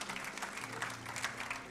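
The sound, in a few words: church congregation applauding the pastor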